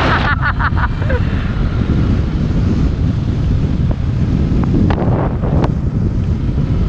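Strong wind by the sea at Looc, buffeting the microphone in a steady, unbroken roar throughout, with a few faint clicks and distant sounds beneath it.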